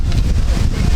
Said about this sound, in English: Super windy. I don't even know if you guys can hear me.